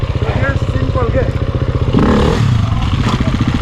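A dirt bike engine runs hard during riding practice, a loud close rapid pulsing rumble that swells as the rider revs, with a voice speaking over it and some clattering.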